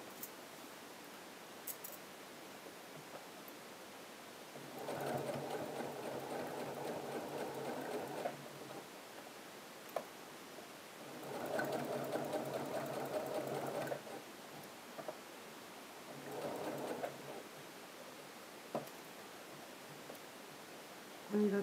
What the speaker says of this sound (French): je dois vraiment venir piquer avec ma double aiguille, entre là et là, à chaque fois.